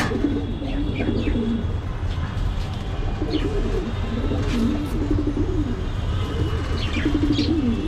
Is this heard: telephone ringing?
no